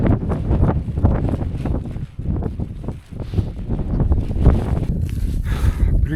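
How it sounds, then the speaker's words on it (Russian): Gusty wind on an Island Peak climb rushes and buffets loudly and steadily, with a brief lull near the middle before the gusts build again. "Ветер тут порывами"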